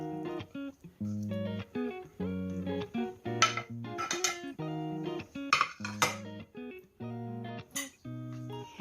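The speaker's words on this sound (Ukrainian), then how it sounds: "Розмішуємо." A utensil scrapes and clinks against a bowl in a steady, repeated rhythm as a cheese and spinach mixture is stirred, fairly close.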